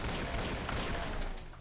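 Pistol gunfire in the video game Doom 2, a dense run of overlapping shots and impacts blended with game noise, loud and continuous for under two seconds.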